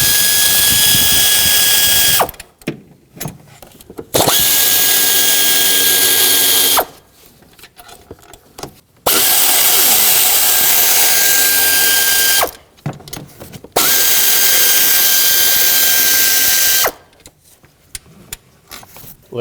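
A hand ratchet working four 10mm throttle body bolts loose on a 2012-2017 Toyota Camry 2.5L, heard as loud, close, sustained ratcheting bursts of several seconds each with short pauses between them.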